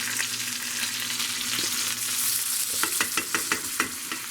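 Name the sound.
garlic and peppercorns sizzling in pan with prime rib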